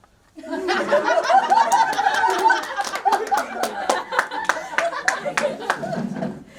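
Sharp hand claps ring out one by one at an irregular rhythm, close by, over the chatter and giggles of a room full of children playing a sit-and-stand classroom game.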